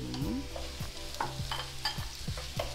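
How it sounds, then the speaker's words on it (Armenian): Minced meat frying in a pan while a wooden spoon stirs and presses it, giving repeated scraping knocks over a continuous sizzle close by. "սկսում եմ այսպես փայտե գտալով տրորել, որպեսզի հատիկ-հատիկ լինի, եւ տապակելու եմ միսը"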